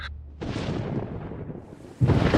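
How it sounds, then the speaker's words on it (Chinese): A loud, deep thunderclap rumbles and rolls for a couple of seconds, then a second heavy crack bursts in. "突然听见外面一声巨大的雷声"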